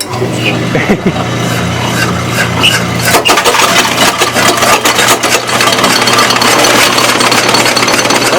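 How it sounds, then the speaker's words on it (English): A gold mill crusher in Hill City, South Dakota grinds rocks with a loud, continuous mechanical roar, low motor hum and dense rattling and crunching throughout, growing harsher partway through. "let's see if we can grind up a few rocks here"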